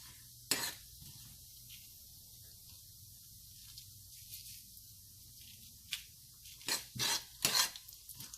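Mustard, cumin and fenugreek seeds crackle in hot oil in a pan, with faint low sizzling and a few sharp stirring clinks and scrapes, growing busier toward the end.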